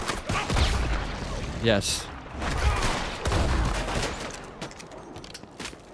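Gunfire in Red Dead Redemption 2: loud, rapid clusters of shots and cracking bursts, some overlapping, with a brief voice heard between the volleys.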